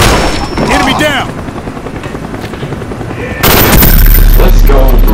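Cobra attack helicopter firing in Call of Duty: Black Ops, heard as loud rotor noise mixed with gunfire bursts; the fire turns heavier and denser about two-thirds of the way through, with game voices in the mix.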